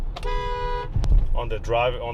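A Honda Pilot second-generation car horn sounds one steady toot lasting under a second, then a voice talks over road and engine noise inside the vehicle.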